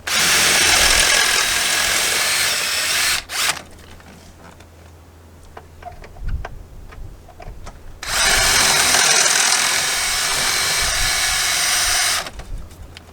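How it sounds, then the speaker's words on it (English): An electric drill with a roughly 3/16-inch bit bores off rivet heads on a Chevrolet Silverado or GMC Sierra dashboard, two loud sustained whining bursts close by, separated by a quieter stretch with small clicks and handling noises. "I got a drill bit, probably around 3/16. I just want to get the heads off these rivets."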